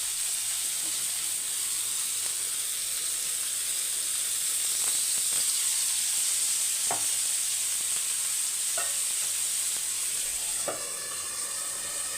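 Fish fry in hot oil in a pan in a village-style kitchen, giving a continuous loud sizzle and hiss with a few faint clicks and scrapes, and no talking.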